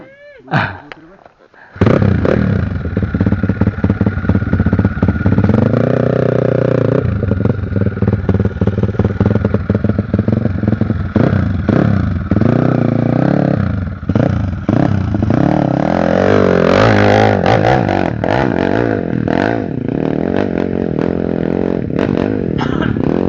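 Motorcycle engine idling and revving close by, with loud sustained roaring and rising throttle surges throughout, while people talk over it.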